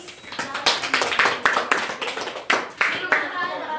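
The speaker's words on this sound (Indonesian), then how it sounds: "Kasih aplaus." A class of students gives a round of applause in a lesson on manners, with uneven bursts of hand claps and some scattered sharper single claps, fairly close, with voices underneath.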